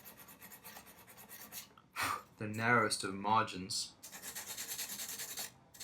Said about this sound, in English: when you're filing it down, you've got to account for a little bit of how much material you're going to take off